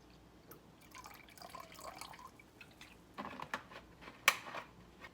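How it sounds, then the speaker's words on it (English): Vinegar being poured into a measuring cup while making quick fridge pickles: soft, close trickling and splashing liquid with a few drips, building toward a brighter splash near the end, quiet overall and free of speech. "So I'm going to go ahead and I'm going to measure out for my vinegar."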